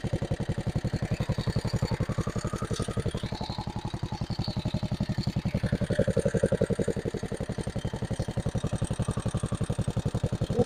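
A medium engine idles while warming up before being accelerated, a steady rapid chugging pulse held at an even level throughout, close by and with no talk.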